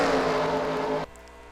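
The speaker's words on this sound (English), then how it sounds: "now I hear a car coming off pit road" Racing truck engine in an iRacing-style racing game, a steady droning roar with harmonic whine that holds for about a second, then cuts off sharply, leaving a faint low hum.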